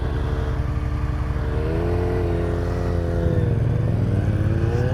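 A Yamaha FZ-07 motorcycle engine runs loud and close, its pitch rising and falling as it revs at low RPM, with no talk over it.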